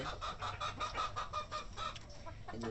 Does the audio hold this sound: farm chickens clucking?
yes